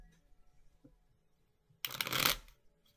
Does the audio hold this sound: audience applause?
no